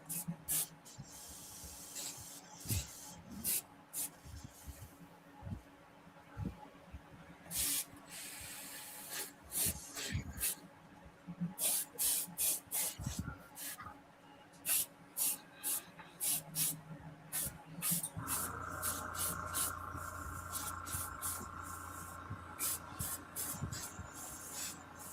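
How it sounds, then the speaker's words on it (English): An airbrush sprays glaze onto a 3D printed bust in short hissing bursts separated by pauses, then a steadier spray and a low hum near the end. "So basically what I'm doing is I'm just airbrushing the glaze."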